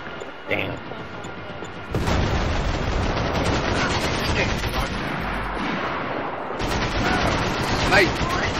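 Rapid sniper and rifle fire in a Max Payne 3 multiplayer match, loud dense shots and booms layered throughout with voices talking over the action.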